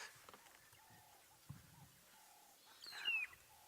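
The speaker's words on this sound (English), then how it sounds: "Not that the magpie shrike's call is beautiful. It's normally this high-pitched," Magpie shrike in the African bush at sunrise giving a brief high-pitched, piercing call near the end, after faint softer bird notes and quiet coos against a calm, low background.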